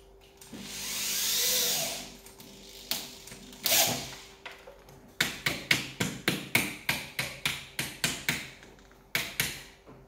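A power drill runs briefly while making tab top curtains, then a rapid series of sharp, evenly spaced mechanical bursts repeats close by, with no talking.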